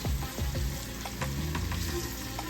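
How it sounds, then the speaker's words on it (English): Onions frying in a pan for Ghanaian jollof rice, a steady close sizzle with a few scraping stirs and clinks of a utensil against the pan. "Onions always smell good though, cooking."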